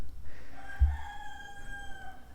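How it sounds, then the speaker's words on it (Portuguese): A rooster crows at dawn around 5 a.m., a single drawn-out cock-a-doodle-doo heard faintly at some distance over a quiet indoor background with a brief low thump. "Escutaram o galo cantando?"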